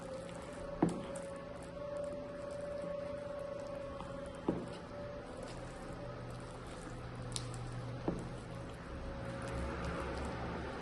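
Henna paste is worked by hand into water, giving soft wet squishes and gentle patters with a few sharper slaps, quiet and close, no voices.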